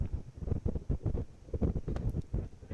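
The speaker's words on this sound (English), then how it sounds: "it is a windy day here at Bomber Field" Gusty wind buffets the microphone in low, uneven rumbling bursts at an outdoor high school baseball field, with no voices in the clip.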